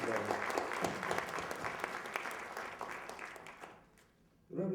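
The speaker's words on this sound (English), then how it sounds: "Can we applaud him?" An audience at a civil rights lecture applauds a professor, a loud sustained round of clapping that fades out, leaving near silence before a sudden sound returns.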